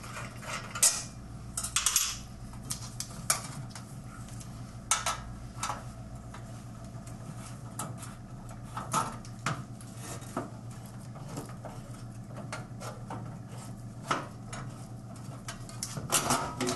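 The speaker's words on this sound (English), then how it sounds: "So you remove your 4 bolts." Bolts being undone on a Vizu Clam grill during repair, with scattered metallic clicks, ratcheting and clinks of tools and parts over a low steady hum, close and fairly quiet.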